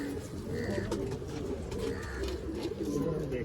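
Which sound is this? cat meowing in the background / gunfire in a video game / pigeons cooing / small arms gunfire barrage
pigeons cooing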